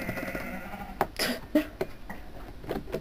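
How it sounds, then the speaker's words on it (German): Sheep bleating in the Minecraft video game, a few short, moderately loud blips spaced over a quiet game background, with no talking. "Da ist ein Schaf drin."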